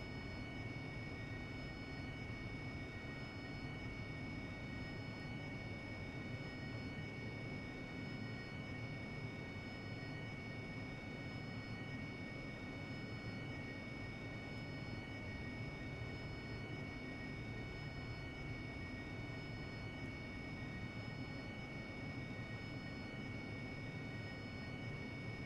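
An AV-8B Harrier jet engine in the DCS flight simulator during a conventional takeoff, a steady, loud, unbroken roar with a whining tonal edge that holds evenly throughout.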